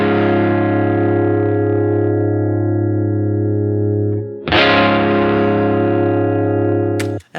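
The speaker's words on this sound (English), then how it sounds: "I've put on a distortion pedal sim and an amp sim today" Electric guitar through a distortion pedal simulator and amp simulator, with a crunchy distortion tone, rings out in a long sustained chord, then a second loud chord is struck and held until it cuts off.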